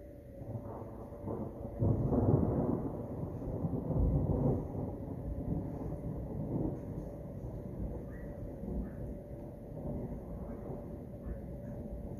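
Thunder from a passing thunderstorm rolls in a long, low, distant rumble that swells and slowly fades, with faint wind in the background.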